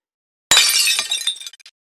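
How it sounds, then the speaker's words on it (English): A large glass eye-shaped monitoring device crashes off a table and shatters, a sharp, loud break followed by a scatter of tinkling shards settling for about a second, with no talk. "During its escapades, it knocks the big eye off the table, causing it to shatter into pieces."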